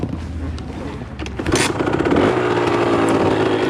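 A Sherco 50cc motorcycle engine runs close by, a rough buzzing drone that grows louder and steadier partway through and holds a raspy tone to the end.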